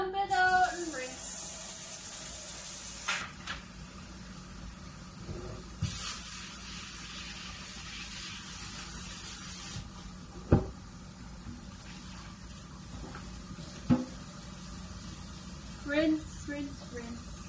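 Water runs and hisses as a dish is rinsed out under the tap, with a few light clanks and knocks of the dish between softer stretches of running water.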